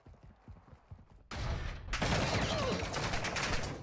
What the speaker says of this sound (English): Do you hear all that fire from me peeking the corner for a second?